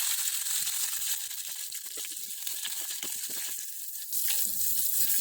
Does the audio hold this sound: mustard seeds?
yes